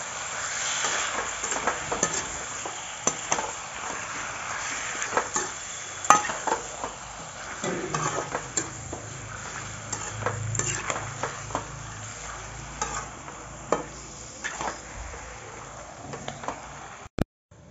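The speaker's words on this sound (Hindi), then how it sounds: "उसके बाद हम मसाला मिक्स करेंगे।" Chicken frying in a pan for curry as dry spice masala is stirred in, with a steady sizzle and repeated spoon scrapes and clinks against the pan throughout, close and moderately loud.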